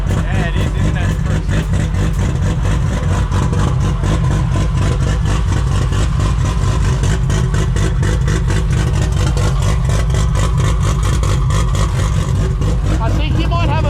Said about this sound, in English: I think you might have an exhaust leak down near your wheel,